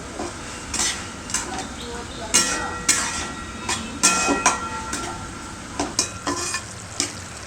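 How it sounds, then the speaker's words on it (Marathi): A spoon stirs and scrapes through dal cooking in a pot, with repeated loud clanks and scrapes against the metal in an irregular rhythm over a low simmering sizzle, close up. "ही डाळ आपल्याला छान शिजवून घ्यायची एकदा मी ढवळून घेणार आहे"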